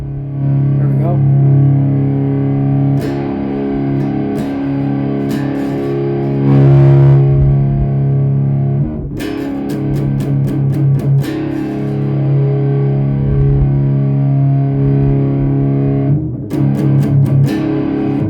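Heavily distorted electric guitar playing doom-style chords and riffs through an Orange OR15 tube amp with gain at about 7, loud and continuous with sustained notes and bursts of picking.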